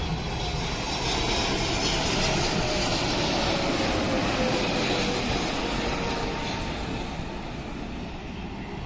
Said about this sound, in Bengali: বোয়িং 777 মডেলের বিশাল এই বিমানটি সৌদি আরবের জেদ্দা থেকে এখানে এসে নামলো